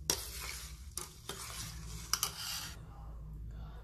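Jaggery, freshly grated, being stirred into raw milk in a pan while making junnu, a sweet milk pudding. A spoon scrapes and swishes around the pan in several close strokes, with a soft sizzling hiss beneath that stops near the end.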